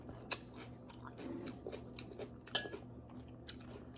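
Close, quiet eating of beef papaitan with rice: soft chewing and small crunches with occasional clicks of spoon against bowl, spread irregularly over a few seconds with no talking.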